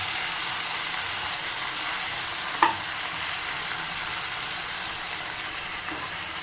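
Tomato curry sizzles steadily in a pan, a faint continuous frying hiss with one sharp utensil clink partway through.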